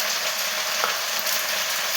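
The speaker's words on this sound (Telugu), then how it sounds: "కరివేపాకు వేయించుకోండి. ఇలా బాగా వేగాలి." Curry leaves fry in hot oil, giving a dense, even, close sizzle that holds steady throughout with no talking.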